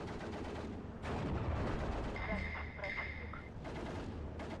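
Sniper and other gunfire in the Steel Division 2 strategy game, heard as a dense stretch of distant shots and battle noise with a few clear tonal effects partway through.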